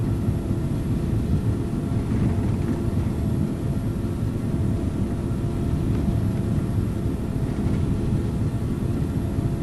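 Airliner engines roar through the takeoff roll on a flight from Indonesia to Malaysia, a steady, loud, low rumble heard from inside the cabin for the whole stretch, with no talking.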